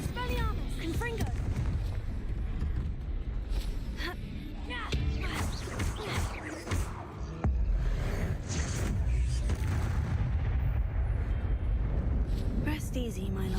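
Confringo blasting spell explosions in Hogwarts Legacy burst repeatedly amid a chaotic mix of rumbling blasts and whooshes, with a voice speaking throughout over the combat.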